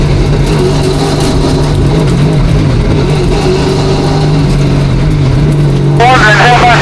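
Race car engine running loud and steady at Newport Speedway, a continuous low droning roar that holds throughout, with a brighter rising whine of revving joining near the end.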